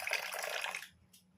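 Rose water is poured into warm milk with saffron, a soft, brief liquid splash under a second long, followed by a faint drip.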